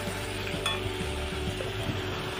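Fried potatoes, pointed gourd and prawns being stirred in a pan of masala, a low steady sizzle with soft scraping and one sharp metallic clink from the utensil; no one speaks.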